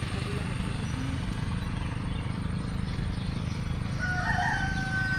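Rooster on a Konkan village farm crows once near the end, fairly faint and distant, over a constant dense background rumble.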